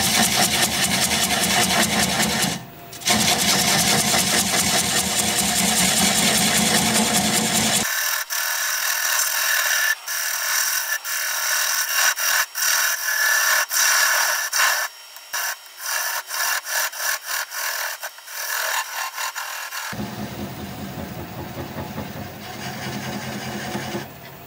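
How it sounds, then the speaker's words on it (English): A wood lathe spins near 300 rpm while a standard grind bowl gouge cuts away the tenon on a honeysuckle root full of rocks and rot, a loud sustained scraping and rasping with fluctuating bursts as the tool bites. "Turn the speed up to about 300, it's gonna take a while. And commence to removing that tenon."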